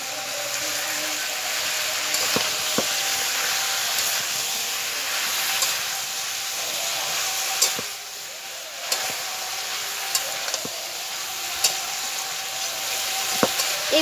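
Shredded cabbage frying in a hot pan with cumin and black pepper for a chicken stew gives a steady, close sizzle, broken by a few sharp ticks and clinks of stirring, with no talk.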